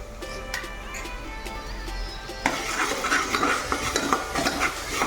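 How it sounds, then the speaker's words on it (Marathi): Tomatoes with ginger garlic paste sauté in a pan for a vegetable dish, soft metallic scraping of a spoon at first, then a busier rush of sizzling and stirring clatter up close. "टोमॅटो छान परतून घ्यायचे त्याच्यानंतर आपण इथे आले लसूण पेस्ट टाकण्यात आहोत"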